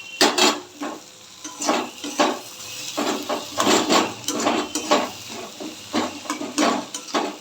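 Boiled potatoes are mashed in a pot with jackfruit seeds cooking alongside, producing repeated soft squishing strokes and light utensil clinks in an uneven rhythm, moderately close with no talking.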